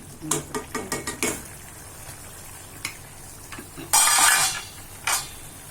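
Date chutney with ghee is stirred in a metal pan, with a quick run of sharp spoon taps and scrapes followed by a loud burst of sizzling and a final clink, close and without voices.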